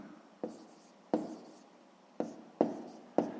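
A pen writes out a sixth-grade math solution by hand, with five short scratchy strokes tapping onto paper at uneven intervals, quiet and close.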